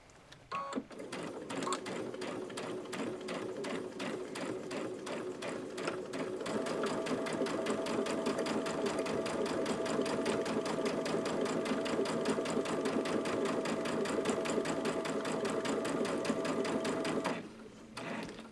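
A Babylock Solaris 2 sewing machine stitches steadily with a rapid, even mechanical whir and needle clatter that grows slightly louder partway through, then stops near the end; faint talk is present.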